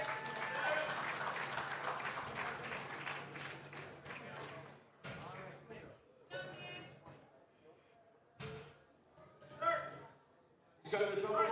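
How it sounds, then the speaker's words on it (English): Applause from a crowd at a powerlifting competition, a burst of clapping at the start that thins out, followed by scattered claps and noise under an announcer's voice. "Give me a round of applause for Nick Manders."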